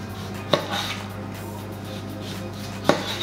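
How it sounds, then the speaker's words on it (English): A knife slices down a mango close to the skin in a kitchen, with two sharp, brief cuts about two seconds apart over a low steady hum. "we just want to go on the skin, as close to the skin as possible, and just slicing it down"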